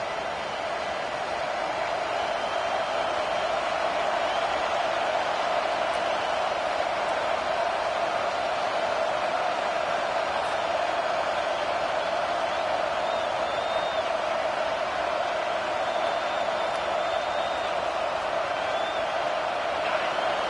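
Crowd noise from College Football 25 rolls on as a steady, dense roar for a Gophers home game, urging on the defense, unbroken and fairly loud throughout with no clear voices on top.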